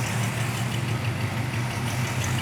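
Original V8 engine of a 1967 Chevrolet Chevelle Super Sport idles steadily, a close, even low rumble with a slight lope and no other sounds.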